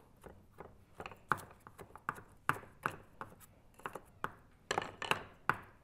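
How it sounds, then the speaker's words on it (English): Knife roughly chopping garlic and parsley on a board in a home kitchen, a quick series of sharp, close, irregular taps and thuds with brief pauses, no talking. "Some garlic, some parsley. Give that a quick chop."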